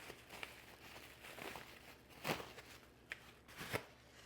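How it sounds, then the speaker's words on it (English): Plastic packaging is unwrapped from a J1772 EV charger plug for an ELEGRP portable 40-amp charger, giving soft crinkling and rustling with a few sharper crackles, quiet and close, with no talking. "let's unwrap the J1772 plug"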